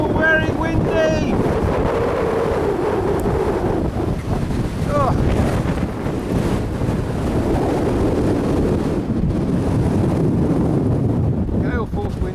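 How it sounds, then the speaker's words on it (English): Gale-force wind roars outdoors in Fuerteventura, a constant loud buffeting rush across the microphone, while a person briefly exclaims. "Gale-force winds today again."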